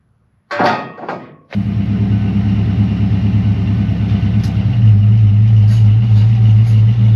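A FoxBody Ford Mustang 5.0 V8, parked for over ten years, starts after a brief burst of noise and runs steadily, a loud close rumble with a strong low hum that deepens and steadies midway through.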